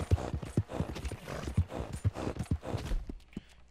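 A horse in Red Dead Redemption 2, played in first person, clip-clops along at a steady walking pace, about two hoofbeats per second, close and clear, fading to quiet at the end with no voices.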